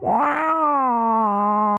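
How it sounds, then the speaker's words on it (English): A single long, drawn-out cat meow, loud and close, holding a strained tone before cutting off abruptly. "We'll do a cat. Cat meow."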